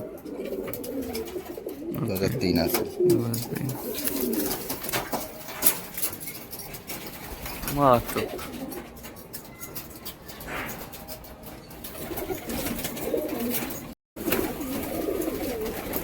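Pigeons in a loft kept for flying, cooing softly at intervals while someone talks over them throughout, with rustling and other bird noises nearby.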